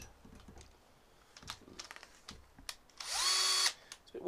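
A few scattered clicks and taps, then a power drill boring a quarter-inch hole spins up nearby and runs for under a second before cutting off.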